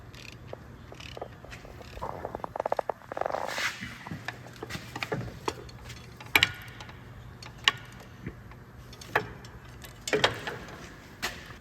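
A ratchet works on the exhaust manifold bolts of a 2003-2024 Dodge Ram 1500 with the 5.7L engine, making sharp, irregular clicking bursts over a low background hum, close and moderately loud, with no voices.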